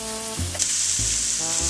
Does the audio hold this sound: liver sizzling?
yes